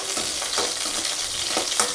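Chopped onions sauté in a hot pan, a steady close sizzle with scattered crackles and the soft scrape of stirring running throughout, no voices.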